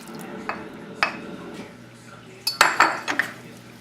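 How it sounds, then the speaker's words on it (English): A metal spoon against a bowl while gently mixing avocado into whole grain pasta with fresh tomato, a few isolated clinks followed by a short cluster of sharper scrapes and knocks, close up. "Use the back of the spoon so you don't mash anything."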